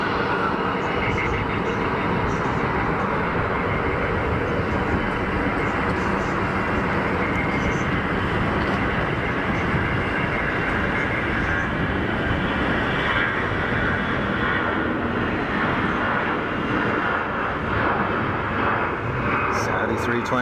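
A Saudi Airbus A320 takes off at full power, a loud continuous engine roar that stays strong across the whole stretch, with a voice talking over it.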